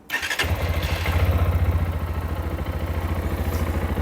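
A Lifan KPS 200 fuel-injected motorcycle engine fires up and settles into a steady, throbbing idle, its exhaust pulsing loud and close with no talking.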